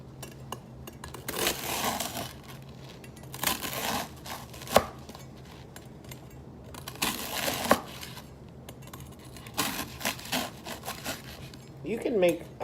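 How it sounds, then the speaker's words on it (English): A knife chops lamb finely on a board in repeated bursts of quick rhythmic thuds, several clusters with short gaps between them, with a sharp knock standing out now and then. "I'm gonna cut these up pretty fine"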